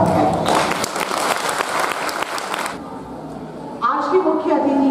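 An audience at a literary award ceremony applauds to greet a guest, a dense burst of clapping that stops abruptly partway through, followed by a voice speaking.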